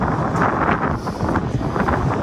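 Cold breeze buffets the microphone outdoors in gusty, rumbling bursts that roar loud and close throughout, with no voices present.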